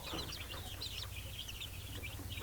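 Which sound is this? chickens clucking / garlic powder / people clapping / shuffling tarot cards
chickens clucking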